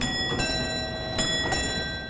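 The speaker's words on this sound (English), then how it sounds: "This is a musical wall clock from 1770. It's German. And what's really great about this clock is that it's got original bells." Original bells of a German musical wall clock from 1770 ring in a few bright, evenly spaced strikes over a sustained metallic hum, clear and close with no talking.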